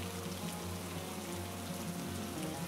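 Continuous soft patter of rain falling in a Bangla cartoon, steady and moderately quiet with a faint low hum beneath, no voices.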